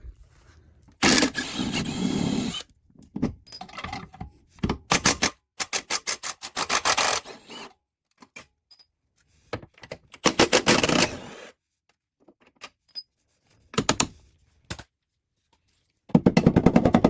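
Rapid rattling bursts of an impact wrench or ratchet on 14 mm bolts of an EK Honda Civic hatch's lower control arm, loud clattering runs separated by quiet gaps and brief clanks.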